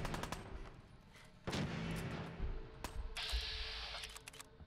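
Video game gunfire in Fallout 4, several sharp shots and short bursts scattered across the scene, with a sustained hissing burst partway through over a low ambient bed.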